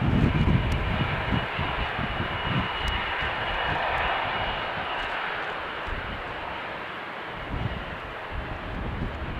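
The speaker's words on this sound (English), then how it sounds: "there is an Airbus A330 from KLM lining up on the threshold." A KLM Airbus A330 lining up on the runway threshold at a windy airport: a loud, continuous broad roar of jet engines heard from a distance, with wind buffeting the microphone and no talk.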